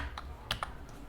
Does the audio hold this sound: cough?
no